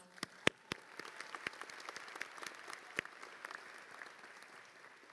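Audience at a 2019 college commencement applauding, a scattered patter of individual claps, fairly faint and distant, with sharper nearby claps standing out.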